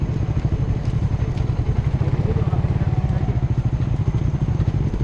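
A motorcycle engine runs steadily with a rapid, throbbing low pulse on a rough, poor road, loud and close throughout the few seconds, with people talking nearby.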